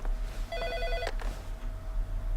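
A telephone rings in the video game Heavy Rain, one short electronic trilling burst over a low background hum, fairly near and clear, with no talking.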